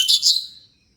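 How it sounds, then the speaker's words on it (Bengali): A bird calls from a house rooftop, one short bright chirping burst that quickly fades into quiet, nearby and alone. "এই দেখো, আমাদের বাড়িতে উঠে ছাদে উঠে ডাকছে পাখিটা।"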